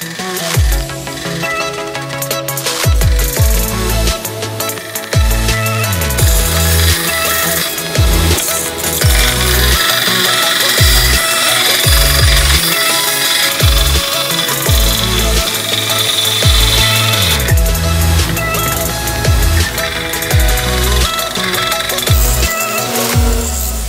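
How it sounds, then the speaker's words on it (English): An angle grinder flattens the back end of a railroad spike tomahawk, a loud, continuous harsh whine with repeated pitch dips and surges as the tool bites into the steel, with no talking. "we're going to get it ground nice and flat on both sides"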